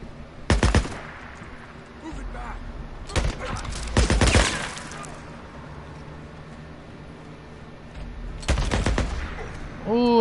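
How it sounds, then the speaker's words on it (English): Bursts of gunfire in the video game Days Gone, several rapid volleys of close shots clustered near the start, middle and end over a steady low background hum. "Trying to figure out where these gunfire shots are coming from."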